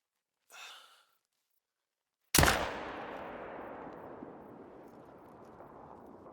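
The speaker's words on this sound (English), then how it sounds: "go for a nice 300-yard shot on this buck, try and drop him" A single loud rifle shot in the hunting game Call of the Wild, fired at a blacktail buck about 300 yards away, cracking sharply and then rolling into a long fading echo, after a brief soft breath.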